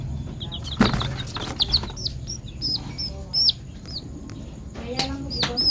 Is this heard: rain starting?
no